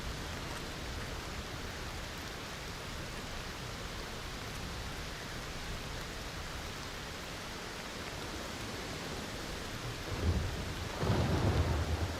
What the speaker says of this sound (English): Wow, that's the first actual storm we've seen.